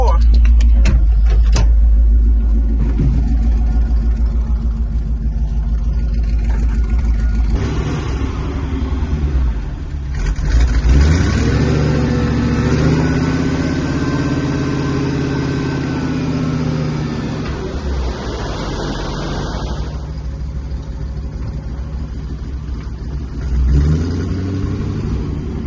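An old Dodge dump truck, revived after sitting five years in a field, grunts at low RPM in low gear while backing up outdoors, a steady close rumble with a few revs, and voices talk over it.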